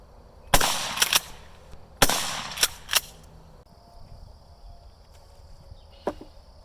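Shotgun blasts of double-aught buckshot strike an AR500 steel plate, with two loud sharp reports each followed by quicker metallic hits, then a fainter single crack after a pause.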